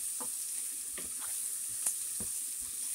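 Zucchini, onions and garlic fry in a pan over high heat as they are stirred, giving a steady faint sizzle with a few soft scrapes and taps of the utensil.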